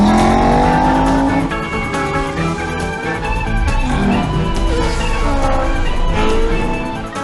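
Race cars roaring through a Cars kart racing video game, engines revving loudly and continuously with tire squeals and cars passing close by, no voices.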